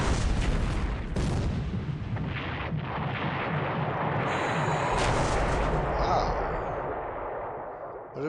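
Torpedoes striking ships in the naval war game War in the Pacific: a heavy, continuous wall of explosive rumbling and booms lasting several seconds, loud and close, with sharper blasts in the first moments before fading slightly.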